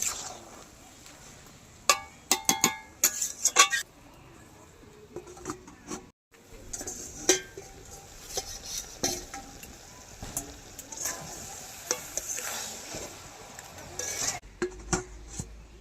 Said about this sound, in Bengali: খুন্তি দিয়ে নাড়িয়ে চাড়িয়ে সব কিছু ভালোভাবে মিশিয়ে নিয়েছি